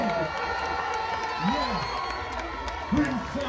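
Crowd noise fills a gospel extravaganza hall after a live performance, a steady wash of cheering and applause with scattered whoops, while a voice speaks over it.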